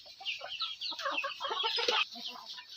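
Laying hens in a small 10 by 12 foot shed cluck in a busy, overlapping chorus of short calls, moderately faint but steady across the clip.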